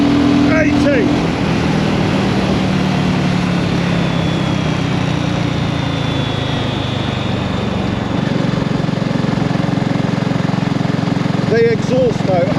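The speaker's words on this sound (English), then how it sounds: "The exhaust note has a very pleasant tone." BSA Rocket Goldstar motorcycle exhaust droning steadily under hard throttle while riding, a continuous loud engine note with wind roar throughout and no speech.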